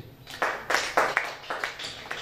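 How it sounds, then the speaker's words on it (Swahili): Hands clap at a church sermon in a sparse, uneven series of about eight distinct sharp claps, close and moderately loud, with short gaps between them. "Nipigeni makofi kwa sababu nawafundisheni."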